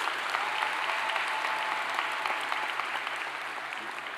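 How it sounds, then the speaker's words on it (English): Steady, dense applause from a large audience at the Miami Herald/el Nuevo Herald Silver Knight Awards ceremony, a continuous wash of many hands clapping at even loudness throughout. "Please give yourselves a round of applause."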